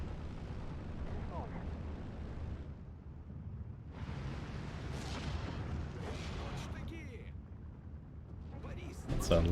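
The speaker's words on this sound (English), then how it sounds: "There's a lot of counter battery coming in now." Counter-battery artillery fire lands in Steel Division 2, with a broad rumbling boom barrage of repeated blasts and bursts at mid distance, heaviest near the end, while a voice talks over it.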